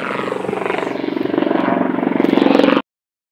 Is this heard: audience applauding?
no